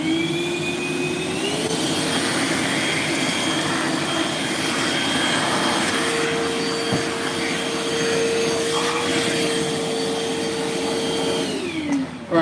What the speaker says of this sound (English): can the flex vacuum take care of all these staples?